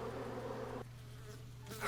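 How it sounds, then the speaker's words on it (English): Bees buzzing in the 2D roguelike shooter Kingdom Gun, a steady droning insect hum that drops lower and quieter partway through, with no talking. "I accidentally shot the bees the wrong direction, but it doesn't matter"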